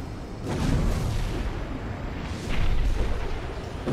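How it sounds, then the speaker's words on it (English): Deep booming explosions in the video game Armored Core 6 rumble in two swells, dense and distant-sounding, with no voices present. "Or is that just explosions?"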